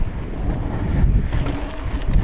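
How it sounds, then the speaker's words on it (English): Strong wind gusts batter the microphone in a steady low roar during a mountain bike ride on a trail, loud and continuous, with no talking. "oh geez, it's way windy"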